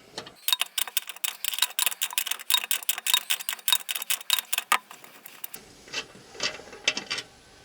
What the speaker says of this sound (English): if we take this bolt out